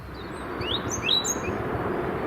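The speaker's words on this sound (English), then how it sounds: "And the birds are all starting to come out." Birds chirp by a river in late afternoon, a few short high tweets scattered over a steady outdoor hum, moderately distant and without voices.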